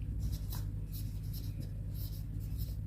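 Hand writing during a maths lecture on linear transformations, a steady faint scratching of strokes over low background hum, with no talk.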